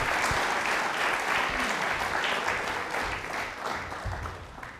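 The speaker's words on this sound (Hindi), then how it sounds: "एक बार तालियां सर के लिए जोरदार" Studio audience applause on a Rajasthani television quiz show, a steady dense wash of many hands clapping at once, sustained at even strength and tapering only slightly toward the end.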